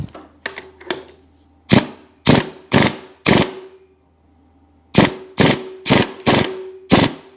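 Sharp ratchet clicks from a 21 mm socket on a Seadoo 951 engine, sounding in two close, loud bursts of four or five strokes each, separated by a short pause.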